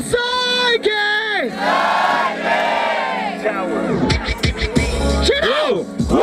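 A crowd at a street rap battle roars a long, loud battle cry in unison, with sustained shouted voices, whistles and scattered yells rising and falling together.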